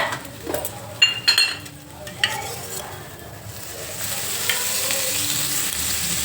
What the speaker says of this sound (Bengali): সোয়াবিনগুলো ভালো করে ভেজে নেবো তারপরে সোয়াবিন দিয়ে দিলাম